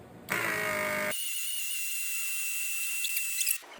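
A fuel pump runs on an injector cleaning and testing bench during a flow test for injector number 4, giving a steady high-pitched electric whine that holds for about three seconds after a brief ratcheting start.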